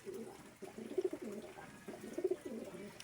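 Racing pigeons back at their home loft give soft, low, repeated cooing in rolling phrases, nearby and fairly quiet against faint background noise.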